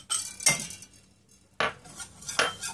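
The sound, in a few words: stirring melted butter and flour in a pot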